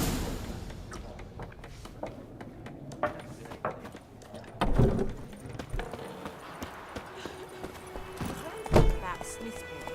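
Roach, the horse in a video game, runs with uneven hoofbeat clip-clops and scattered thuds under steady game sounds, with two heavier impacts standing out and people talking over it.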